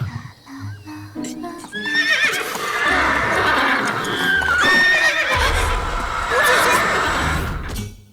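In a historical drama about a future empress, an unruly palace horse whinnies shrilly and repeatedly, with heavy stamping and snorting under the loud, sustained neighs, close by.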